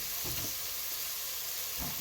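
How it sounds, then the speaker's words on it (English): Onions saute in a pan for Italian-style Swiss chard, with a continuous close hiss and sizzle and a few soft stirring scrapes. "the onions still got to saute a little bit more before I put the craisins in or the raisins in"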